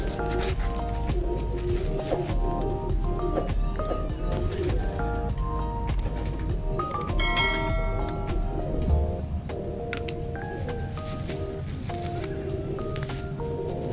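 Cooing of a weak, ailing pigeon, a soft recurring call under a steady background hum that carries on throughout.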